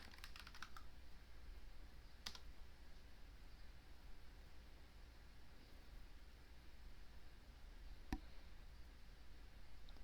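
Quiet clicking keystrokes on a computer keyboard as a command is typed in Ubuntu Linux, a brief flurry at the start and a few isolated taps afterward over faint background hiss.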